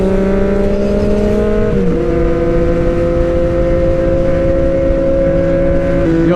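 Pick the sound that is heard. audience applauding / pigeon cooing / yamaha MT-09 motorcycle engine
yamaha MT-09 motorcycle engine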